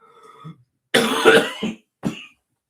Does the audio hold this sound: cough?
yes